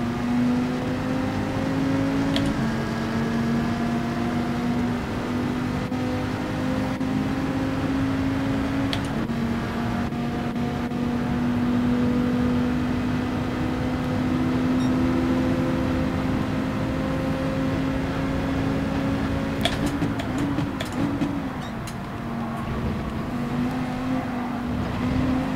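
A Porsche race car engine in a Gran Turismo race drones at a steady, high pitch for a long stretch, with the revs shifting near the end as the car goes wide.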